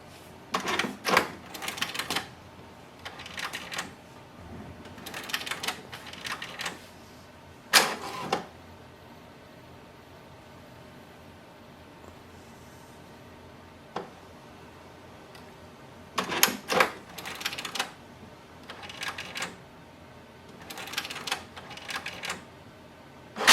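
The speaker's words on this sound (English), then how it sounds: "So it's doing the automatic printhead cleaning." An HP DeskJet 4300 inkjet printer runs its automatic printhead cleaning cycle, giving repeated bursts of rapid mechanical clattering and whirring separated by quiet pauses, close and fairly loud, with no voices.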